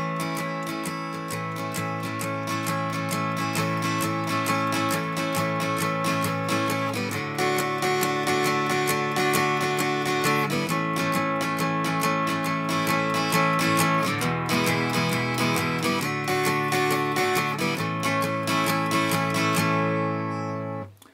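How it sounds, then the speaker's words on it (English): Acoustic guitar strummed in a steady, swung rockabilly shuffle rhythm, downstrokes on the main beat and upstrokes on the off-beat, with bright repeated strokes ringing full and close throughout. "we tend to strum downwards on the main beat and upwards on the back"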